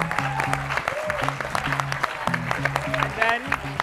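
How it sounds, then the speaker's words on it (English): An audience at a Harvard panel event on art, media and social change claps for three panelists, with sustained clapping under a tonal, musical layer. "If we could have one more round of applause for our three incredible panelists."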